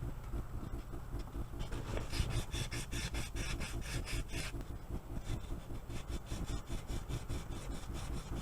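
Rhythmic back-and-forth scraping of sandpaper on metal, a steady rasping stroke repeated at an even pace, close but fairly quiet.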